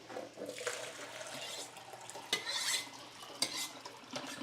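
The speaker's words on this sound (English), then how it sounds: "I'm just rinsing the dyes off of some Rolly infrared." Water sloshes and swirls in a developing tank as Rollei infrared medium format film is rinsed, a continuous hissy wash with a few sharper splashes and knocks.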